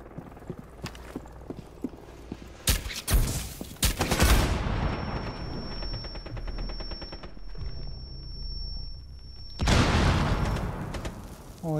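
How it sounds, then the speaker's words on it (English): Firebolt spells burst in a fantasy video game, a cluster of sharp loud blasts followed by a sustained crackling rumble and a high ringing tone, then another explosive surge near the end, with no talking. "I shot two firebolts in there"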